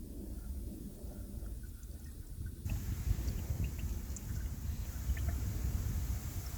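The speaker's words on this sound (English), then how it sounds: "we're gonna go ahead and top off the coolant" Ready-to-use 50-50 coolant pours into the radiator of a 1996-2000 Honda Civic, a steady rushing trickle of liquid that grows noticeably louder partway through and keeps going without a break.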